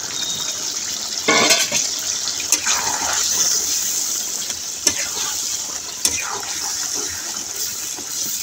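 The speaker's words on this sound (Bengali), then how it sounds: "যে ডিশে আমি গোশটা মাখায় রাখছিলাম ঠিক সেই ডিশের ভিতরেই একটু পানি দিয়ে দিচ্ছি" Water poured from a vessel into a dish of marinated chicken, a steady splashing gush with a few brief clinks, close and alone without talk.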